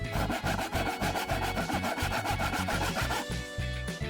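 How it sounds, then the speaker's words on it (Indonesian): A hand saw cuts through wood in steady back-and-forth strokes, loud and close, with a dense rhythmic rasp that runs unbroken and no voices. "Iya, ambil gergaji."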